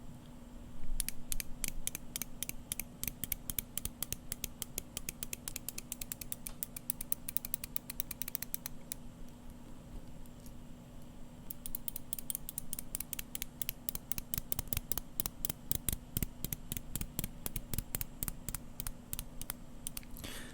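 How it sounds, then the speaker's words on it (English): The 120-click rotating bezel on a Seiko SBDC053 wristwatch turned by hand, close up: long runs of rapid, crisp ratcheting clicks with a brief lull in the middle. "this is a 120 click bezel. It's very ratchety sounding, isn't it?"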